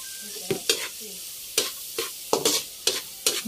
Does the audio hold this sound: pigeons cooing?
no